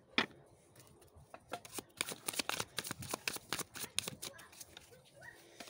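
Tarot cards are shuffled by hand in a rapid run of crisp riffling flicks that builds and then tapers off. A voice speaks softly underneath.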